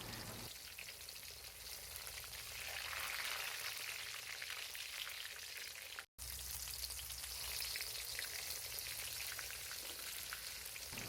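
Shiitake mushrooms fry in hot oil with a steady, dense crackling sizzle that continues without a break apart from one very short dropout midway, and no voices are heard.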